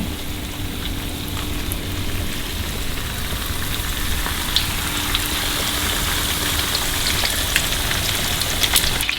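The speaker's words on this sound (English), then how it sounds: "Oil is hot, drop them in, and let them do their thing." Frog legs from Texas bullfrogs frying in hot oil, a steady, close crackling sizzle with scattered sharper pops, continuous throughout with no talking.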